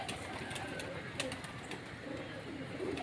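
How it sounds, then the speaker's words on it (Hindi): Pigeons coo softly in a loft while feeding on grain and water at dinner time, low murmuring calls under a steady ambient hiss with scattered faint clicks. "नीचे की तरफ कबूतर दाना पानी खा के"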